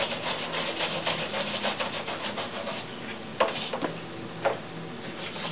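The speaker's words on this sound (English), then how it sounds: "We're going to use the brush here. And clean all that wax off." A brush scrubs wax off etching plates with steady, fairly quiet rubbing strokes, broken by a couple of small knocks near the end.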